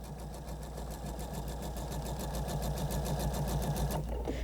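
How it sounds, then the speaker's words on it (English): A sewing machine stitches across two fabric squares for a quilted flying goose block, a steady rapid mechanical whir with evenly spaced needle beats, close and continuous until a brief stop near the end. "continue sewing across both of the squares"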